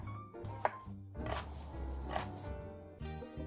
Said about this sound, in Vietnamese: Tôi sẽ cắt rau củ quả ra từng khối vuông